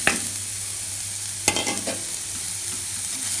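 Chopped beetroot goes into a hot pan and is stir-fried, a steady sizzle broken by a couple of sharp scraping clatters of the spoon against the pan.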